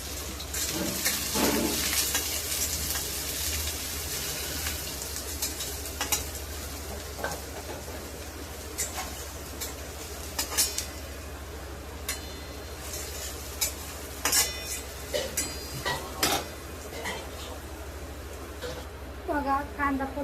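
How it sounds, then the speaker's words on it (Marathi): Onion sizzling in hot oil in a pan for okra bhaji, a steady frying hiss with occasional stirring clinks of a spoon against the pan throughout. "बघा तेल टाकलंय, त्यात मी कांदा टाकते."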